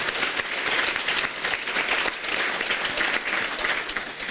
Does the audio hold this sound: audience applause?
yes